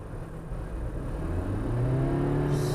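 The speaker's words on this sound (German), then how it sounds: "für das Geräusch ist jetzt die Beschleunigung nicht wirklich beeindruckend" Toyota car accelerating, a steady engine rumble and whir that rises in pitch as revs climb, heard from inside the cabin with no talk.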